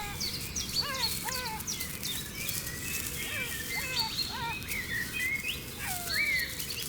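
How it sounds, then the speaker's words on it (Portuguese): Many birds chirp and sing at dawn on the Botswana steppe in overlapping short calls and whistles, mixed with early insects over a steady outdoor hum, fairly near and continuous throughout. "os primeiros insetos do dia se misturam ao canto dos pássaros que ecoa"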